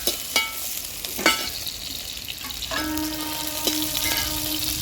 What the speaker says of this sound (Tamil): அதையும் போட்டு நல்லா வறுத்துக்கலாம்.